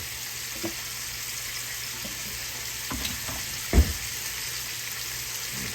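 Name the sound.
shrimp sizzling while cooking in pan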